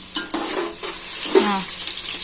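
A spoon scrapes and stirs a chicken biryani mixture in a hot pot, with scraping strokes and metal clinks over a steady close sizzle of frying.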